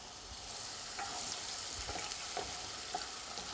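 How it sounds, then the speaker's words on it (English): Onion and garlic sauté steadily in a pan, giving a continuous close sizzle while a wooden spoon stirs through with soft scraping strokes. No one speaks. "Okay, so this is sauteing, and I love the way this smells in the house."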